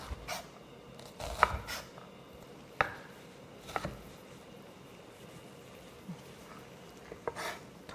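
A knife dices peeled tomatoes on a cutting board, giving a few sparse, sharp taps spread irregularly across a quiet background.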